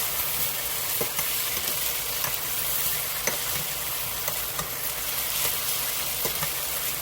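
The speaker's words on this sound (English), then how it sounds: "Remember, now I gotta keep stirring." A pot being stirred on the stove while chicken wings cook, giving a continuous sizzling hiss with scattered light scraping clicks from the spoon against the pot, and no speech.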